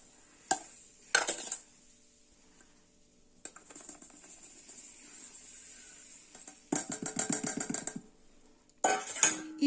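Sugar is stirred into a kilogram of hot peppers in a bowl: clattering, rattling bursts of a spoon against the bowl alternate with softer rubbing and quiet pauses, all close up.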